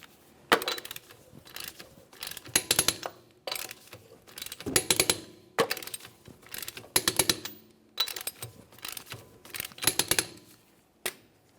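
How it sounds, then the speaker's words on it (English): Torque wrench tightening the lug nuts on a 1994-1997 Honda Accord to 80 foot-pounds in a crisscross pattern: repeated bursts of sharp, close ratcheting clicks with short pauses between each nut. "we'll torque the lug nuts to 80 foot-pounds in a crisscross manner"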